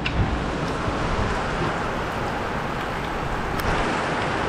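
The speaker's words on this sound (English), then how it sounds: "It is pouring out there." Heavy rain pouring outside a walk-in cooler build site, a dense steady hiss of downpour lasting throughout with no talking.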